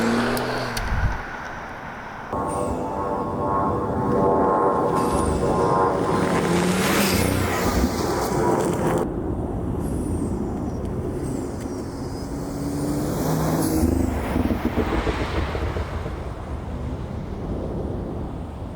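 A car with a modified engine intake driving, its engine droning and rising through gears with changing pitch and rushing road and wind noise throughout, loud and close.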